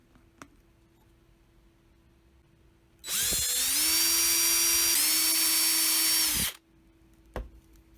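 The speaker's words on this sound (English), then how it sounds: "After deciding on a layout, I mark the spots and then drill the holes." A power drill whirs loudly for about three seconds, drilling holes in a plastic baby doll head, its pitch dipping slightly as it bites in, with quiet clicks before and after.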